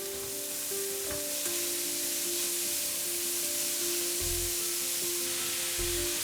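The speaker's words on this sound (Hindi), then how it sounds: "थोड़ी देर इन प्याज़ों को हम फुल पे ही भूनेंगे" Chopped onions fry in a pan over a full gas flame, giving a steady soft sizzle throughout with a faint hum and a couple of brief low thumps.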